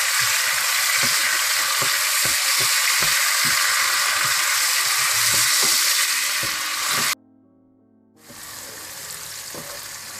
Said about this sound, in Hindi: प्याजों को हल्का ब्राउन करने के बाद आप इसमें टमाटर डाल दें। इनको भी आप अच्छी तरह से भून लें।